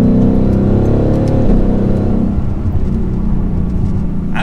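Ford Mustang Dark Horse V8 engine driven in track mode, a steady loud rumbling drone with slight rising revs, running continuously close by with no voices.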